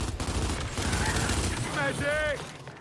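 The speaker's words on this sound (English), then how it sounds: "To shoot in game, you simply pull the trigger." Automatic Lancer rifle fire from Gears 5 rattles in a steady burst, overlapped by game sounds and voices, with the gunfire continuing through most of the stretch.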